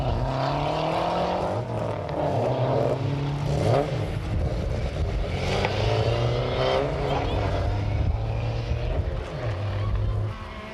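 Rally car engine at the 1996 Galway International Rally, held on the throttle with loud, sustained revving and shifting pitch over continuous mechanical roar, with a commentator's voice running over it.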